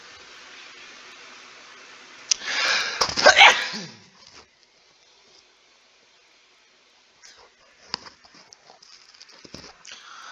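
A single person sneezes loudly and close by, a sharp burst followed by a short trailing exhale, then near silence with a few faint clicks and small movement sounds.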